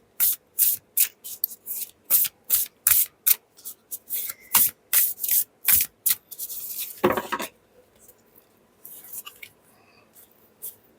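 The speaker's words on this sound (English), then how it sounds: "See, I can be a very messy shuffler sometimes." Tarot and oracle cards shuffled by hand in a rapid run of crisp riffling bursts, followed by softer rustling and scattered taps, close and fairly quiet.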